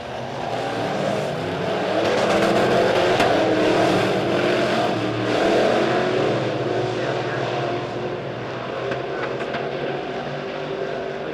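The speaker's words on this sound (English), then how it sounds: "Green in the air as we race down the backstretch into turns 3 and 4." Midwest modified race cars roar down the backstretch at Springfield Raceway, a loud continuous dense engine drone that swells and fades slightly as the pack passes, with a commentator's voice faintly under the noise.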